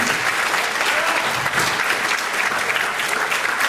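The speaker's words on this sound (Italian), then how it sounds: "Un grande applauso a Chiara." Dense, steady applause from a concert audience at a band performance by a town wind band, loud and continuous clapping throughout with no voices on top.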